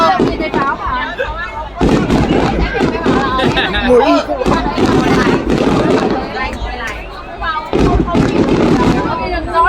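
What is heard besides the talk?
fireworks exploding at temple festival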